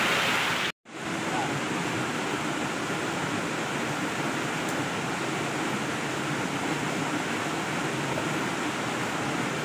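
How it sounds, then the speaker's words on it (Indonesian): A jungle waterfall roars as a steady, loud wash of broadband water noise that fills the scene, with one brief dropout near the start and no other sounds standing out. "Kita ada di air terjun."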